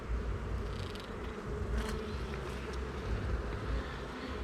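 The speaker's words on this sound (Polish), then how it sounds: "Widać, że pszczoły zbierają tutaj pyłek, bo chodzą z żółtymi nogami." Honey bees buzzing close by on a hive frame during a hive inspection, a steady low drone with no voices.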